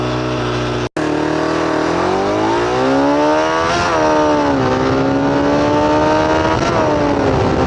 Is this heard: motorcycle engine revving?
yes